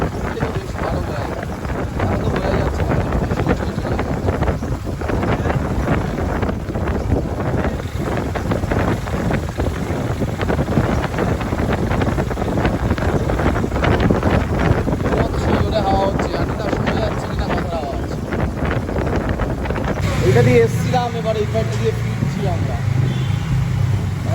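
Strong wind gusting at the Laxman Jhula suspension bridge over the Ganga in Rishikesh, a steady loud rumbling buffet across the microphone, with people talking throughout and a shift in the noise near the end.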